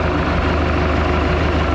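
A 1976 Mercruiser 120hp inboard engine in a Mark Twain boat idles smoothly and steadily, a close, even low rumble with no break over the short stretch.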